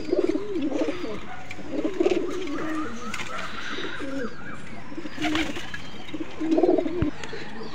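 A pigeon coos close by in repeated low burbling phrases, with faint background noise and occasional soft bird chirps, no talking.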